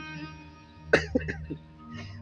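A few short, sharp coughs burst out close by in quick succession, then the sound settles into quiet background noise.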